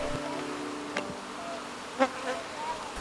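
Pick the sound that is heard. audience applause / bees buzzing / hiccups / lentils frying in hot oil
bees buzzing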